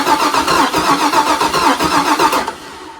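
LS-swapped 1961 Mercury Comet engine cranking over after sitting a long time, a rapid rhythmic starter chug close and loud for about two and a half seconds, then stopping without catching.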